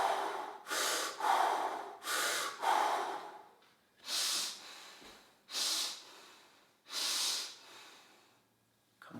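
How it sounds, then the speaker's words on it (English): Deep, close breathing during a fascia release maneuver: seven or eight slow, breathy inhales and exhales in an even rhythm, each lasting about a second, with short pauses between them and no speech. "and breathe in"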